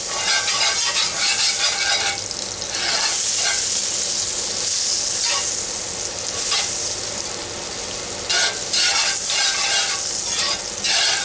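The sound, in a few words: butter sizzling in pan with pork chop drippings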